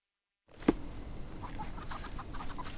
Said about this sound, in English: Sorry, chickens.